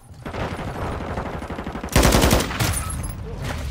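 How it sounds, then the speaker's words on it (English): Call of Duty gunfire: a steady rattle of automatic shots, then a louder, heavier burst close by, with firing continuing in quick rhythmic volleys. "Taking effective fire."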